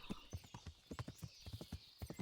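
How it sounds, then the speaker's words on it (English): Horse hooves clip-clopping in the video game Kingdom Come: Deliverance, a quick steady run of distinct hoof clops, faint and evenly spaced, heard alone without talk. "Horse is really good at flatland"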